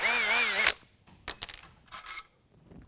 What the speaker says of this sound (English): to drill the hole for the riv nut.